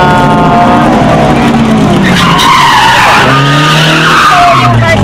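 Cars at a drag racing event in Marikina skid loudly, with tires squealing over a continuous roar of racing engines that rise and fall through the whole stretch.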